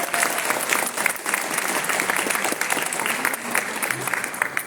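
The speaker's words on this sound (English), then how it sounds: "one more applause for HPL graduates" A crowd at a youth graduation ceremony applauds graduates with loud, sustained clapping from many hands, with scattered voices mixed in.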